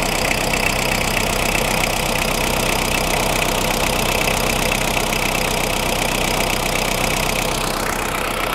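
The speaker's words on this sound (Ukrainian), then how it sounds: "Дана модель трактора укомплектована 4-циліндровим двигуном V1503" The 4-cylinder Kubota V1503 diesel engine of a Kubota GT-5 mini tractor idles nearby with a steady, even rumble and a faint knocking pulse, running unchanged throughout.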